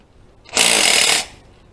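A power tool backing out a bolt during lower intake work gives one short, loud, harsh burst of close whirring rattle lasting just over half a second, then stops.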